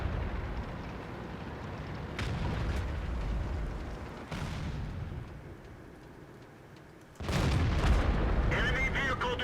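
Tank cannon fire in World of Tanks: a few deep booms and heavy blasts over a rumbling battle background, the loudest one near the end, with occasional distant impacts.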